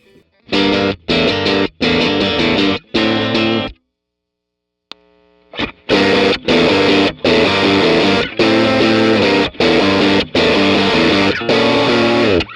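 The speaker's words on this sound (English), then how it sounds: "Just this dirty Rat distortion, not transparent sounding." Heavily distorted electric guitar through a Rat distortion pedal plays loud, choppy chords in bursts, pauses briefly with a few ringing notes, then resumes a driving rhythmic pattern.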